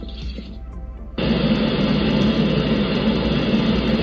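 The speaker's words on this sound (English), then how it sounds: "that sounds much more like a rainstorm." Rainstorm soundscape played from a star projector's speaker, a sudden switch from quiet to a dense, steady hiss of rain that continues evenly and fairly loud.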